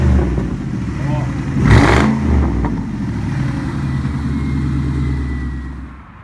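A stock 1999 Ford Mustang GT with a 4.6-litre two-valve V8 and automatic transmission gives a single quick throttle blip that swells and falls back to a steady low idle rumble, close by, with a person speaking briefly over it.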